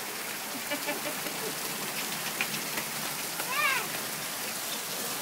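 Steady rain pours onto a surface, a dense close hiss lasting throughout, with faint outdoor voices and a brief squeal mixed underneath.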